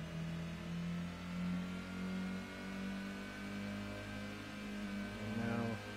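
A car engine in the Gran Turismo racing game holds a steady drone in third gear at Autumn Ring. The tone shifts slightly with throttle and revs briefly climb near the end, with no talk.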